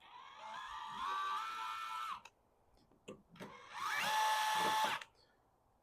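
An electric screwdriver backing out screws from a food truck power plug adapter housing, two whirring bursts of a couple of seconds each with a rising pitch, close up, separated by brief clicks and quiet.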